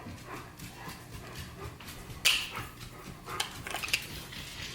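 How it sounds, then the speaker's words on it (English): Household dogs bark and yelp at passing delivery drivers, fairly faint and indoors, with a sharper outburst partway through and scattered yaps after. "My dogs are freaking out because like FedEx, Amazon, UPS keep coming"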